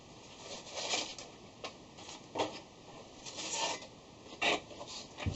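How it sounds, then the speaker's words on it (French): Quiet, uneven rasping of a hand file across a small machined metal part, with short scraping strokes repeating irregularly at close range. "On va passer un petit coup à la lime,"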